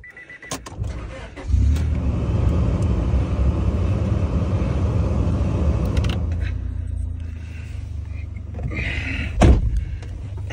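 A 1998 Honda S-MX engine cranks and catches, settling into a steady, close idle after a brief starter burst, with a sharp clunk near the end.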